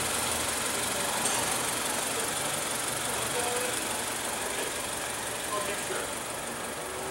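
A 2016 Mazda 3 with a 2.0 L four-cylinder engine idles steadily, a constant low engine hum with faint mechanical ticking, unchanging throughout with no talk over it.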